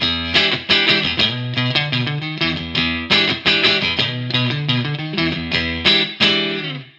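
A warm, rounded Chapman electric guitar on the neck pickup plays a rhythmic pattern of strummed chords and single notes, clean and full-bodied, with no voices.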